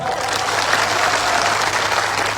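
A large crowd at an AAP public rally in Gujarat claps loudly for the police officers present, a dense, steady roar of applause that carries evenly from start to finish.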